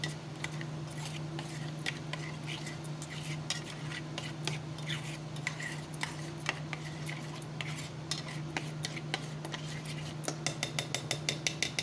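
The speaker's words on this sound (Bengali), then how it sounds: "এটাকে ভালো করে মিশিয়ে নেব" Food being mixed by hand in a bowl while cooking, giving soft rubbing and squelching with small clinks of dish and utensil, steady and close, building to quicker taps near the end.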